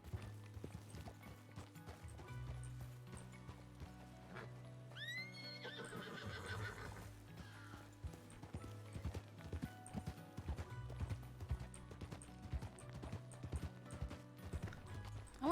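A horse in the western roleplay game RedM plods with steady clip-clop hoofbeats, gives a clear whinny partway through, and keeps walking against a faint musical background, with no talk.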